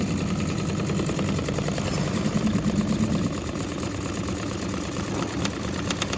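A YUNFU single head embroidery machine stitches 3D foam onto a cap, giving a steady, close mechanical chatter with rapid repetitive needle strokes that run without pause and sound alone.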